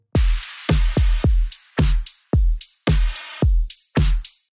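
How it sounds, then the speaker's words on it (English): Drum hits driven hard through a soft clipper, transients flattened into a crunchy, distorted punch; about a dozen loud, evenly spaced kicks and snares in a steady mid-tempo pattern, alone. "Here's the exaggerated effect of the soft clipper, essentially cutting off any transients above a certain threshold and distorting the sound."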